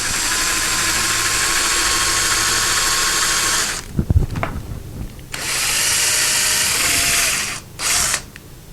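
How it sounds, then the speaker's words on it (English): A power drill boring a pilot hole for a screw during closet rod and shelf installation, a loud high whine running steadily for several seconds, a short pause with clunks, then two more bursts of drilling. "we're going to drill it at an angle like this"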